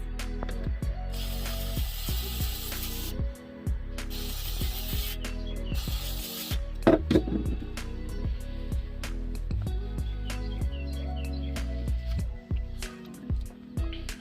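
Several short hissing bursts of aerosol cleaner sprayed into a Ford Mustang in a shed, over a steady mechanical whir and clicking, close by.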